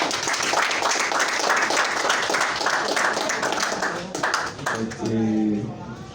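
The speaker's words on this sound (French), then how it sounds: "et on peut les applaudir." Applause from the audience at a school graduation ceremony for a class promotion, a dense, steady wash of clapping that thins out near the end as a voice comes through.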